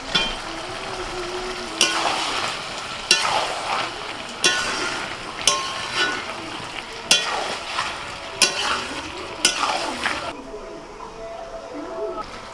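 Fried potatoes and chicken pieces are stirred in a sizzling pan, with a spatula scraping in regular strokes about every second or so under a soft background sizzle.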